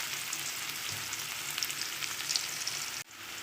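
Chopped onion fries in oil with black cumin seeds, a steady even sizzle with faint stirring clicks, cut off by a brief thump near the end before the hiss resumes more quietly.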